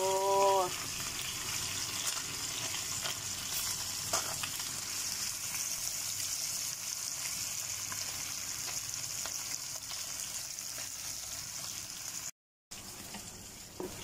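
Steady, crackling sizzle of fish frying in hot oil, continuous and close, with a brief clink at the start.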